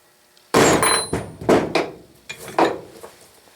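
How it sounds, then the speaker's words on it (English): A series of sharp metallic tack hammer strikes on a drill chuck key, about six whacks in irregular rhythm, close and ringing, with no talking. "take a little tack hammer and give her a whack"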